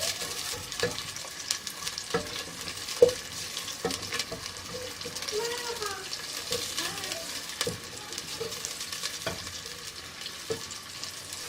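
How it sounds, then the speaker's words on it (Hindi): Onions fry in oil in a pan for sarson ka saag, a steady soft sizzle running throughout with occasional clicks and scrapes from stirring. "प्याज को हम हल्का ब्राउन करेंगे।"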